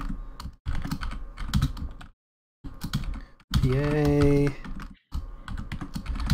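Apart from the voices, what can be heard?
typing on a computer keyboard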